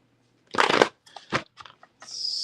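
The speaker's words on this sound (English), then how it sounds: "let's get a quick shuffle" A quick riffle of playing cards, followed by a few shorter snaps and shuffles, close by and crisp, ending in a faint hiss.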